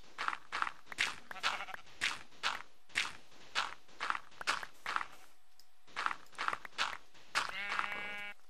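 Minecraft sheep bleating in a blocky game world while footsteps crunch through sand in a steady rhythm, with a short, brighter bleat standing out near the end.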